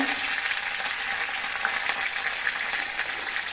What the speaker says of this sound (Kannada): ಇದು ನಾಟಿ ಬೆಳ್ಳುಳ್ಳಿ ಸಿಡಿಯುತ್ತೆ